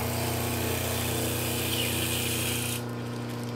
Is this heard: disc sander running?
yes